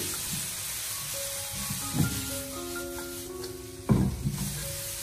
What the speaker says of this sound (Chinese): 然后开大火进行快速的翻炒，用大火先把它快速的翻炒均匀